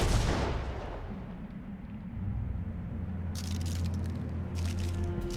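An explosion shatters glass in Jurassic Park: The Game, starting as a loud broadband blast that fades into low rumbling debris, with bright crackling glass bursts near the end.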